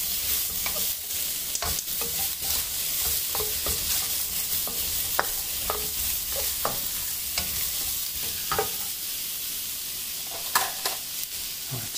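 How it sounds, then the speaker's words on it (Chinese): Mushrooms stir-fried in a wok give a steady close sizzle, broken by repeated sharp clicks and scrapes of the spatula against the metal over about twelve seconds, with no talk. "这时候倒入蘑菇翻炒， 先翻炒一下，再加入黄油。"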